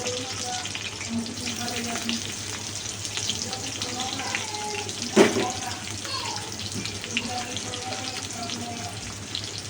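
Continuous crackling sizzle of chopped onions frying in a hot pan for chilli chicken, steady throughout, with a brief clatter midway.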